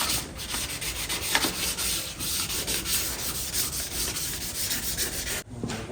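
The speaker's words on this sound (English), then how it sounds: "I got some 600 sandpaper. This will smooth out any of those 320 scratches." Steady, close hand sanding with 600-grit sandpaper, a continuous scratchy rubbing in quick back-and-forth strokes for about five seconds, then a brief pause, no talking.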